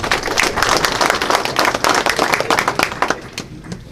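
Audience applause at a high school state championship news conference, steady dense clapping for several seconds that thins out toward the end.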